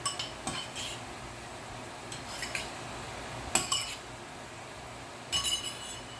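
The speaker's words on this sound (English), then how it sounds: "Give it a stir, and just let that marinate for a minute." A utensil stirring chicken marinade in a dish, with intermittent metallic clinks and scrapes against the container at uneven intervals, fairly close and moderately quiet.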